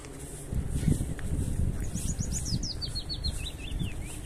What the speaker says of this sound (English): See that wee bird? That is the nicest sounding wee bird.